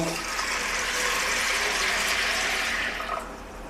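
Water pours steadily into a bowl of sago, a continuous loud rushing gush that tapers off at the end.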